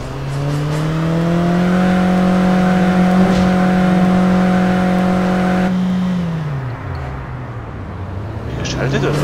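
A car in the video game APB Reloaded drives with a steady, loud engine hum that holds a high rev, then drops in pitch as it shifts or slows and climbs again near the end.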